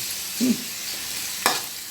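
Marinated pork fries in oil in a pan with a soft, continuous sizzle, broken by a couple of brief scrapes or knocks from stirring.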